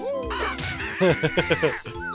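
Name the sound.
cuckoo birds screaming from walls, Banjo-Kazooie video game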